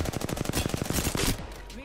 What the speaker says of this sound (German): ich stehe hinterm Drop und ich werde beschossen